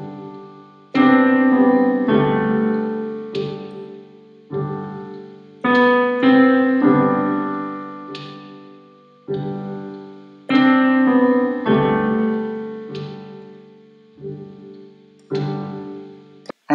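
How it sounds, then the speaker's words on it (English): A piano plays slow sustained chords on its own, each chord struck clearly and left to ring and decay before the next, with no pad underneath and the room otherwise quiet. "This is the sound of piano without a pad loop sound."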